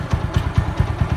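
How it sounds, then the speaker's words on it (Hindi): An Apache RTR 200 motorcycle engine idles close by, a steady low rumble pulsing in quick, regular chugs. "इतना ज्यादा साउंड है बाइक का"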